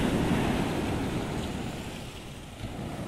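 Ocean waves crash near the Prado lighthouse in Bahia, a broad roaring wash that is loudest at first and then eases slightly, with wind noise and no speech.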